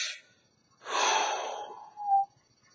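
A voice imitates a breathing technique: a short sharp breath, then a long drawn-out breathy exhale tapering off, ending in a brief whistling puff, close and alone.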